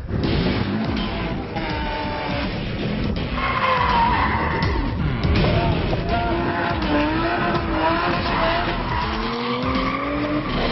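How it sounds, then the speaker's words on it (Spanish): A lightly modified 1993 Toyota Supra Twin Turbo with a 2JZ engine and 440 horsepower drifts, its tyres screeching loudly and continuously over a roaring engine that runs throughout. "Un Toyota Supra Twin Turbo del 93, 2JZ, está un poquito preparado y 440 caballos."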